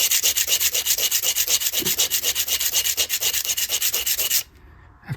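Top of a bass guitar nut being sanded on a 16-inch radius block, rapid rhythmic back-and-forth rubbing strokes, close and steady for about four seconds before stopping, with no talking.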